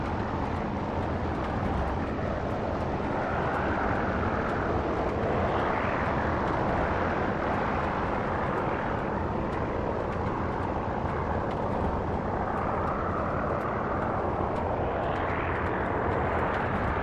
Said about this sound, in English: on the taxiway, taxiing to the start of the runway